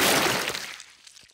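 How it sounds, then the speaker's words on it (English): In a Peppa Pig cartoon, a burst of muddy water splashes over a car, a loud, hissing wet slap that trails off over about a second. "Peppa has thrown the muddy water all over the car"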